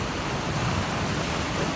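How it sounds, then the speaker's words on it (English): Ocean waves break on the rocks at Pulpit Rock, a steady, loud wash of surf with some wind rumble and no voices. "So I'm just keeping an eye on the waves again."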